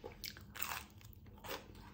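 A crunchy vegan sweet potato cookie is bitten and chewed close up, with several sharp crisp crunches in quick succession and no talking.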